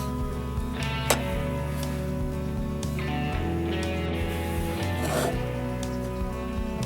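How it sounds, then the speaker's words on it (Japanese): Hand saw cutting an object in half for a moss terrarium, steady raspy back-and-forth strokes at close range. "このようにノコギリで真半分に、カットいたしました。"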